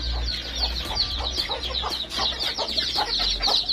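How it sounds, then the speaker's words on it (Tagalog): Native chickens and Japanese bantams cluck on a small farm, with many overlapping short clucks and calls close by over a low rumbling background. "Ito mga native lang to. Ito yung ating Japanese bantam."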